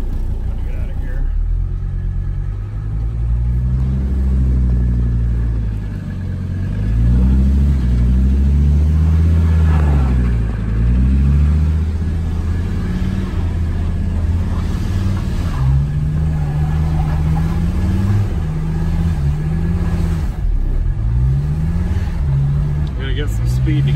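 A Mercedes 300D diesel car with rebuilt injectors accelerates through soft, muddy ground, its engine rising and falling steadily and loud throughout, with voices talking over it.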